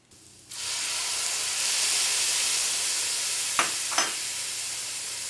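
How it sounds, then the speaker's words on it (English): Cognac hits a hot pan holding quail juices and bursts into a loud, sustained sizzle and hiss, with a couple of brief scraping stirs near the end. "add our cognac, this will give it a nice little sizzle here."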